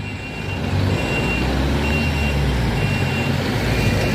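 A heavily overloaded Hino truck strains up a steep hill, its engine roaring loud and steady while a reversing beep chirps faintly at regular intervals over the rumble.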